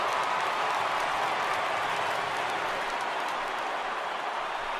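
Dense, steady roar of a large stadium crowd on its feet in MLB The Show, a baseball video game, with over 39,000 fans cheering continuously and loudly throughout.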